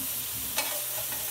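Food sizzling and being stirred in a medium frying pan, a soft steady fry with one brief sharp scrape of the utensil midway.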